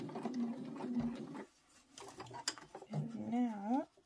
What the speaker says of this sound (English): And now I am actually sewing just only on the end piece.